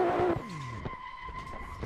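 Tyres skid and squeal as a powerful car with its handbrake engaged spins out while drifting in Assetto Corsa, a loud wavering screech that sweeps in pitch and then trails off under a steady engine whine.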